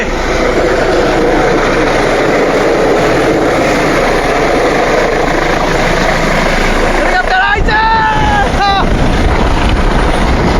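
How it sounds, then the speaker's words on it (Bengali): A loud, continuous helicopter roar with rotor chop dominates throughout, while a voice briefly calls out near the end. "ওই যে হেলিকপ্টার আইছে"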